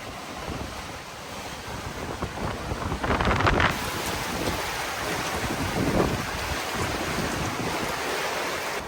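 A sailboat races along at speed in 14 knots of wind on the Mediterranean, with water rushing and splashing against the hull and wind buffeting the microphone, and a louder surge of spray midway.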